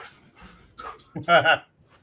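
A pug-type dog pants and lets out a short bark-like yelp up close, brief bursts mixed with a person talking to it.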